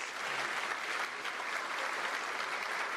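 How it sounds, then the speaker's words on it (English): A roomful of people applauds Vicki Rowinski at the Macomb County address, sustained and even clapping from a large crowd with no pauses. "that applause is for Vicki Rowinski"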